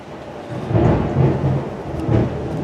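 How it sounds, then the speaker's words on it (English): Thunder during a heavy rainstorm outside, a deep rolling rumble swelling and fading in several surges over a steady hiss of rain, heard from indoors without any talk. "I don't know if you just heard that thunder, but yeah, it's raining pretty good outside right now here."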